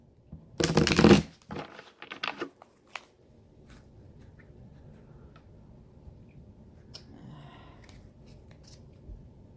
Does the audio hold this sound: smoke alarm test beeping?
no